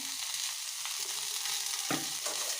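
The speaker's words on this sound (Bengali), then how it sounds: "ফুলকপিটা ভালো করে ভেজে নিই।" Cauliflower and potato fry in oil in a home kitchen pan, giving a steady, close sizzle throughout with a faint scrape of stirring near the end.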